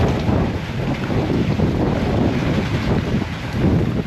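Strong typhoon wind roars against a house door in a loud, continuous low rumble that buffets and surges without a break.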